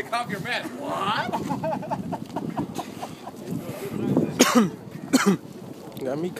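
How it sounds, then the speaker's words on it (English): Coughing and throat clearing inside a gas chamber during a mask-removal drill, harsh bursts scattered among loud nearby voices, with a sharper cluster of coughs near the end. "Got me coughing and shit."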